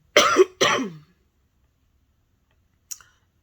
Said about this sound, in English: If a random cough makes it in here, it's because I'm dealing with the residuals of some chest congestion